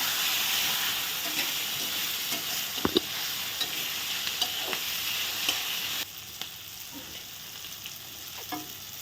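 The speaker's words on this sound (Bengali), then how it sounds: "সব কিছু দিয়ে এখন ভালো করে নেড়ে চেড়ে ভেজে নেওয়া" Continuous hissing sizzle of Gobindobhog rice frying in a pan with soybean, chopped tomato and slit green chillies, with sparse clicks and scrapes from stirring; the sizzle drops slightly in level partway through.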